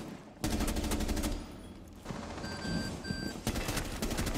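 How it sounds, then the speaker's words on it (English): A device beeps in Rainbow Six Siege, with evenly spaced electronic tones cutting through loud bursts of automatic gunfire in the game. "where is this beeper at?"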